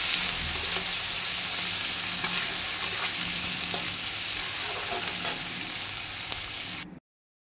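Chopped onions sizzle steadily in a hot pan for a Bengali chicken dum pukht, a close continuous frying hiss with occasional stirring scrapes, then abrupt silence at the end.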